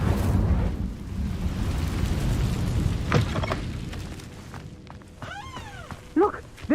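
An Incendio fire spell cast in a Hogwarts video game makes a loud, rumbling roar of flame that swells and then fades, followed by a few brief voiced sounds near the end.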